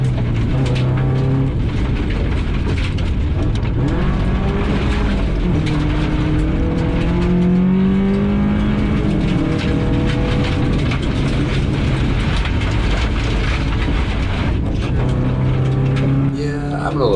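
A rally car drives flat out through a dusty forest stage: loud, continuous engine roar rising and falling through gear changes, with gravel rattle and mechanical whine throughout and no clear talk.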